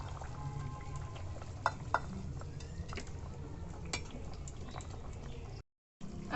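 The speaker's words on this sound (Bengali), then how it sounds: "এরপর আমি ঝোলটাকে 2-1 মিনিট ধরে ফুটিয়ে নেব," Rohu fish curry simmering in a pan on the stove, a steady low bubbling with soft pops and crackles, close and quiet, with no one talking.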